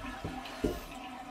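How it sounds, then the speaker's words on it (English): An old toilet flushes water out of its tank during a repair, a faint, short watery gurgle with two soft surges, heard alone. "then we'll flush the water out of the tank"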